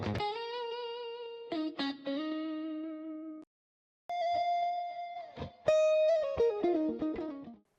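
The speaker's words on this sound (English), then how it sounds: "And I also tried to generate a guitar," Distorted AI-generated guitar for a beat, playing sustained held notes in a few phrases with a brief gap midway, loud and alone without talk.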